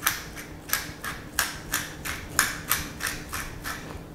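A pepper mill on its coarsest setting cracks peppercorns over steaks in a steady series of about a dozen short, crisp grinding bursts, close and fairly quiet, with no talking.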